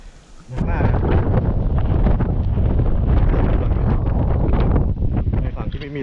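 Strong wind buffeting a microphone outdoors on a mountain at Phu Thok, Bueng Kan, a loud, continuous roaring rumble that starts abruptly and persists, with a voice faintly audible beneath it.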